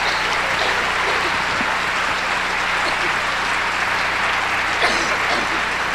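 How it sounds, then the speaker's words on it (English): A large audience applauds a youth show choir, steady dense clapping with no gaps for the full stretch, loud and close. "I think they deserve another round of applause"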